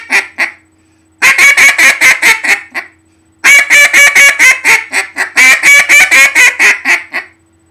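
A goose call is blown hard and fast in three loud runs of sharp, clipped honks, each run packing several rapid notes, with short silences between runs.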